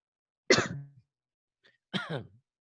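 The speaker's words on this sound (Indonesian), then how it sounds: "Ikut batuk jadinya." Two short, dry coughs separated by a brief pause, close and otherwise quiet.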